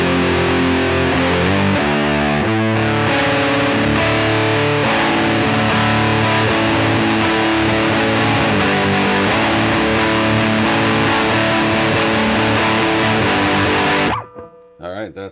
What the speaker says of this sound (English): So let's see what it sounds like with the fuzz.